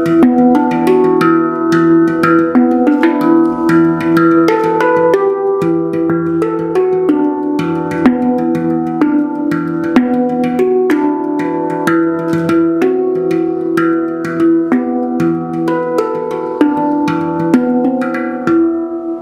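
A UFO-shaped metal percussion instrument, a handpan-like drum, is struck gently with fingers and hands, giving a continuous stream of bright, ringing melodic tones that overlap and sustain, fairly close and loud, with no talking.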